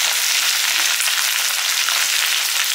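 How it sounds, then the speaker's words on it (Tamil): Brinjal sautéing in hot oil for a Tamil curry, a steady close hiss of sizzling that holds evenly loud throughout with no talk. "கத்திரிக்காய் வந்து எண்ணெயிலே நல்லா வந்து வதக்கணும்."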